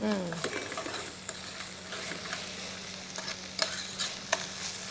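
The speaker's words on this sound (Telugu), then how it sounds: "సో ఈ విధంగా ఫ్రై చేసుకోవాలండి ఉల్లిపాయలన్నీ మంచిగా బ్రౌన్ అవ్వాలి" Onions frying in a pan, a continuous soft sizzle with scraping stirs and a few sharp spatula clicks, no talking.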